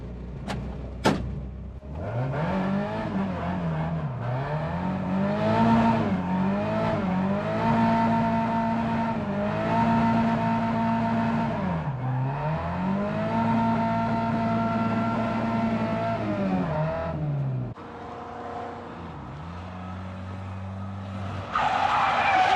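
Car driving along a private-land road, engine revving up and down in long sweeping pitch changes, loud and near for about twenty seconds, then dropping to a lower idle before a final burst.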